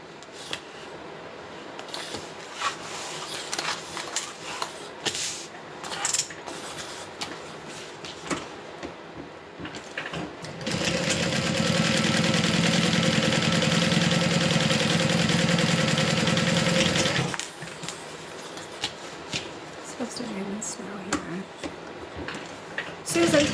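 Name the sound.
sewing machine top stitching a bag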